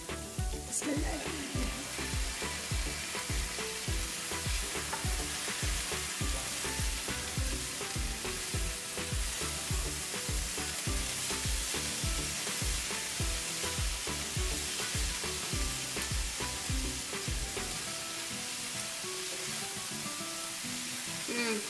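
Shrimp sizzling in a seasoned pan for stuffed mirlitons, a dense, steady frying crackle that runs loud and close almost throughout, with stirring scrapes, then thins out near the end.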